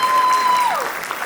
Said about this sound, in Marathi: एकदा जोरदार टाळ्या होऊन जाऊ देत चाणक्यसाठी.